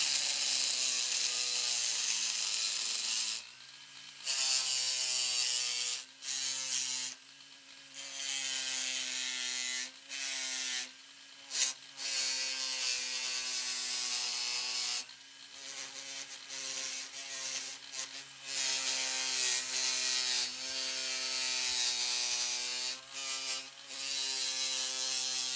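Foredom rotary tool running a slow speed sanding mandrel under a router speed control, a steady buzzing whir broken by several brief pauses as it stops and restarts, close and fairly quiet with no talk.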